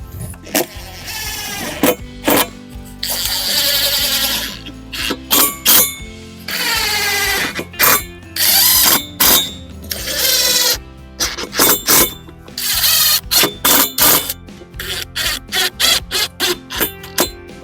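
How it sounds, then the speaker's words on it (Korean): Power drill driving 32 mm wood screws into a solid-wood outdoor bench, heard as a close, loud series of repeated whirring bursts of varying length with short pauses between, no talk. "끝이 서로 맞는지 이제 이렇게 확인을 하시면서 피스 결합을 하시면 됩니다"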